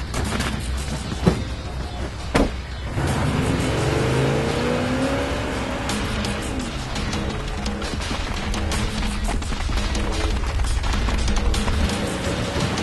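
A vehicle engine drives steadily in the shooter game Afterworld: Salvation, a dense continuous roar with sharp gunshots cracking over it early on.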